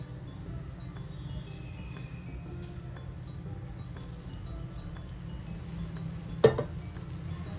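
Thin oil sizzles faintly and steadily on a cast iron dosa pan being seasoned over a low gas flame, a soft continuous hiss with one brief clink near the end.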